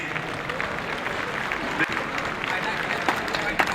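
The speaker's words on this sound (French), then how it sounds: "On applaudit bien fort, encore plus fort." Steady applause from a crowd at a university debate contest, a dense wash of clapping that holds at an even level throughout with a few sharper claps standing out.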